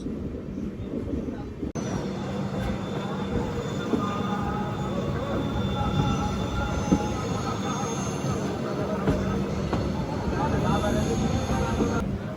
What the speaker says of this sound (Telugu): ఒక బ్యూటిఫుల్ టర్నింగ్ అయితే కొడుతుంది మన ట్రైన్